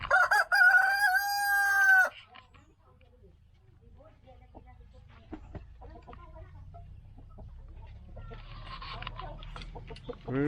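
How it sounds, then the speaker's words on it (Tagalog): Rhode Island Red chickens at their coop: a loud rooster crow opens, followed by quieter scattered clucks and a later crow-like call further off. "Ating Rhode Island Red."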